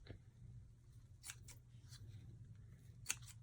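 Scissors snip through chunks of lace in a few quick, faint cuts, spaced apart over a low steady background hum.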